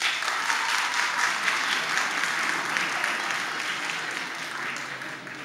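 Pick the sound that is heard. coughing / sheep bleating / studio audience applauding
studio audience applauding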